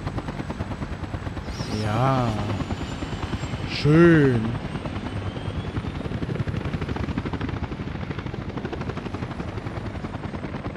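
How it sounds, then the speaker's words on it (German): Helicopters in the city-building game Workers & Resources whir in a constant rapid rotor chop that runs throughout, with someone speaking briefly in German twice over it. "Und die Armee der Helikopter kommt die ganze Zeit. Ich finde, man müsste die Helikopter ein bisschen leiser machen können."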